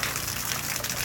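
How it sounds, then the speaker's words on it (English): Rainwater pours off the edge of a roof in a steady, close gush that lasts about a second. "the water is going off the edge"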